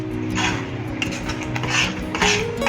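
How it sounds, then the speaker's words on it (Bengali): A utensil scrapes and clinks against a pan while red sauce pasta seasoned with oregano, black pepper and a little sugar is stirred, with soft repeated metallic taps and rubbing close by. "ভালো করে নাড়িয়ে চাড়িয়ে নেব।"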